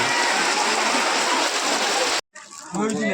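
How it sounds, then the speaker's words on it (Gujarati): Heavy rain gives a loud, steady roar of pouring water close by, then cuts off abruptly, and a voice follows. "આવો વરસાદ મજબૂત વરસાદ પડી ગયો"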